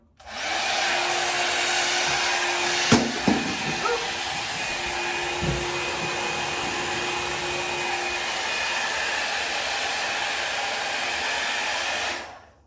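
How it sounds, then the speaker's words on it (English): A hair dryer fitted with an attachment blows steadily and loudly for about twelve seconds, with a few brief knocks and rubbing sounds near the start. "Then I put the attachment on my dryer."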